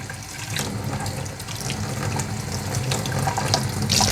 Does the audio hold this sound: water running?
yes